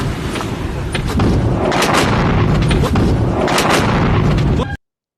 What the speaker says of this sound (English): How many explosions? How many weapon systems do you think?